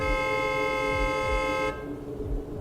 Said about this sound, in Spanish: sonó un claxon.